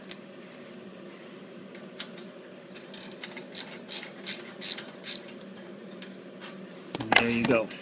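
A socket wrench ratchets in short clicking bursts at close range while fitting a Termignoni exhaust on a Ducati 1199 Panigale, followed by a louder metallic clunk near the end.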